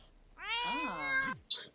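A pet cat in The Sims 4 gives one clear, drawn-out meow that rises and falls, close and alone, then a short clipped sound right after.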